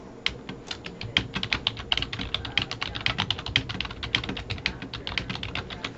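Rapid keystrokes on a computer keyboard while formatting paragraphs and bullets in a document, a steady, close clatter of many keys with occasional louder taps and no voices.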